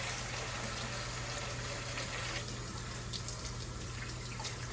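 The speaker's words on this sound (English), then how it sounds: "I'm going to pour some water on top of this." Water is poured steadily over pigs feet in a pressure cooker, making a continuous, fairly quiet rushing splash with no pauses.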